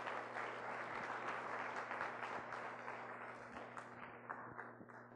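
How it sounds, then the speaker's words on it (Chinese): Audience applause welcoming a guest speaker at a lecture, a sustained patter of many hands clapping in a room, steady then gradually thinning out over a faint electrical hum. "那我们现在就用最热烈的掌声来欢迎渔夫。"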